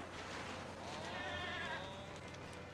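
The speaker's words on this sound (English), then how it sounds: "Now bring out that fucking goat!" Goat bleating with a wavering, drawn-out call rising midway and fading toward the end, heard over a steady low hum and hiss, moderately near and alone without talk.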